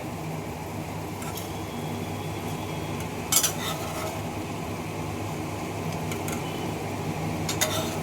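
Chickpeas go into a cooked-down spice masala in a pan, with a low background sizzle, scattered scraping from the stirring spoon and a couple of brief metallic clinks, and no talking.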